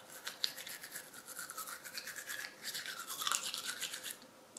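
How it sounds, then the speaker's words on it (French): Close, steady scrubbing of a toothbrush on teeth, with rapid bristle strokes repeating in a continuous rhythm for several seconds. The brushing is quiet and heard on its own without speech. "je me brosse les dents."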